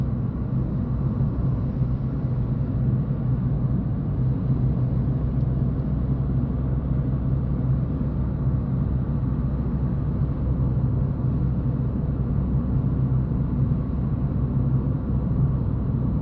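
A car drives along a road near Ermenek in Turkey, a steady low engine and tyre rumble that holds at a constant level throughout, with no voices.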